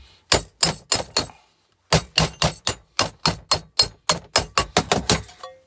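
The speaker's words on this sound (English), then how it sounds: "block of steel, couple of hammers" Hammers strike steel laid on a steel block while a small metal part for a rocket stove is shaped: sharp, ringing metallic blows land in quick bursts of three or four, with short pauses between, loud and close.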